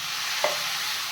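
Tomatoes dropped into a hot pan of frying garam masala and coriander, a short burst of close sizzling with a brief stir-like thud over a steady hiss.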